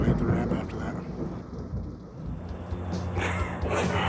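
Rain pouring steadily, with thunder rolling low underneath, a dense continuous hiss that stays loud and close for the whole stretch and swells again toward the end.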